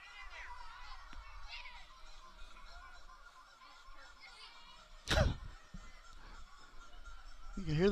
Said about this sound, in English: You can hear the turkeys gobbling from the dugout.